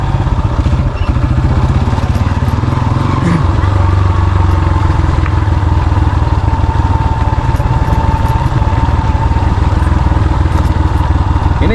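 A motorcycle rides an alternative rural road near the Leuwikeris dam through Sundanese village country, its engine a loud, steady close-up drone that never lets up, with someone talking over it.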